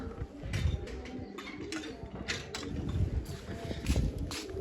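Pigeons coo in a loft of nesting holes, a low, throaty, repeated murmur that rises and falls continuously, with light shuffling and scuffing nearby.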